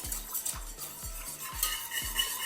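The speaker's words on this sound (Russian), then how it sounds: "В молоко мы добавляем сразу же желтки и перемешиваем." Egg yolks are whisked into milk in a bowl, with about five quick, regular scraping strokes that repeat in an even rhythm, close by and alone.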